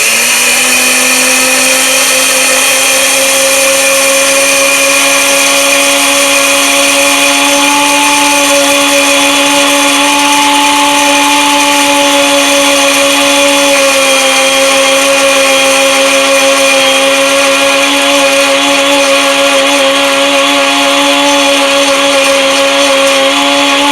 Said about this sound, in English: I'm looking for a complete single tone, high-pitched whining from this, so that lets me know that the wheat is ground properly.